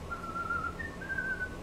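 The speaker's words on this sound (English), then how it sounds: "you're walking down the halls of school and you're whistling" Someone whistles a short, clear melody with one brief upward jump in pitch, alone over faint room hiss.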